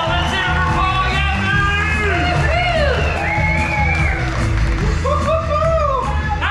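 A loud, rowdy crowd at a late-night motorcycle rally event on a cruise ship cheers, whoops and yells continuously, with many overlapping voices shouting close and long rising hollers.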